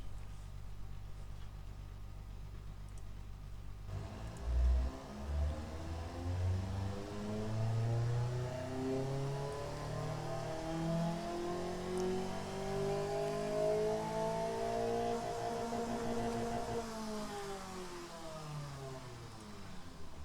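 A custom BMW-style engine in the Automation game, with a straight-through exhaust and no secondary muffler, starts up with a low rumble, then revs steadily upward toward about 6750 rpm and falls back, heard alone.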